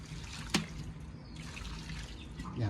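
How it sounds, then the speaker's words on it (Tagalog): Water is poured from above into a cooking pot of rice, a steady close trickle and splash running throughout, with a brief clink near the start. "Lagyan natin mga idol ng konting tubig."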